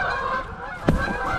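A goose on a lake lets out one sharp, close honk against a soft outdoor background with other waterfowl sounds faintly present.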